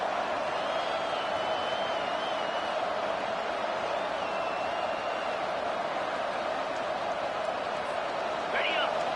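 Steady, loud stadium crowd roar from a college football video game, Clemson against LSU, a dense unbroken wash of noise held at a constant level from start to finish with no break or swell.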